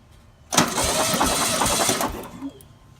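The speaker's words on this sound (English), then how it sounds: "We're going to crank it right now and see what kind of compression we got." The air-cooled engine of a VW Sunbug is cranked over by the starter for a compression test, with no carburetor or fuel pump fitted, a loud, close, rhythmic churning lasting about two seconds before it stops.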